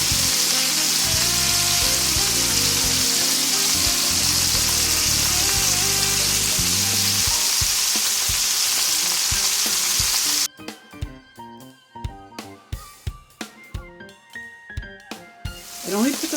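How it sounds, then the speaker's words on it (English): Seafood cooks in a hot pan with a dense, even sizzle for about ten seconds, with music underneath, then the frying stops and rhythmic music plays on alone. "And once you put them in the pan, just let them cook."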